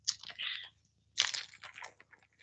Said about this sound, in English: these scissors are dull